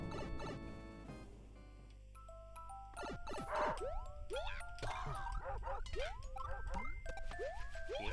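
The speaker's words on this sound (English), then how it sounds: "The dog got loose." A dog in a Super Mario Maker 2 level yips and barks in a quick series of short, bright calls, with jingling and game sound effects around it.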